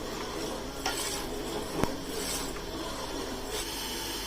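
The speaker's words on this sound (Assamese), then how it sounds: "এতিয়া টেঙাখিনি দি এনেকৈ আকৌ আগৰ দৰে লৰাই থাকিব লাগিব।" A spoon stirs guava jelly with lemon juice in a pot, giving a steady faint scraping and rubbing with a single sharp clink partway through, over a low constant background.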